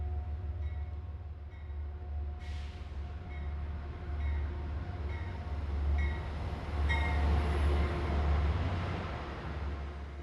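Train rumbling on a scenic desert route in Arizona, a steady loud low roar of wheels and engine with a distant horn-like tone and metallic clanks rising toward the end.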